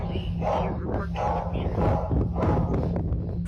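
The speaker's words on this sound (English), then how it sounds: "can be heard barking aggressively inside her house." A dog barks aggressively inside a house, its repeated rough barks muffled and roomy over a steady low hum, several bursts in quick succession.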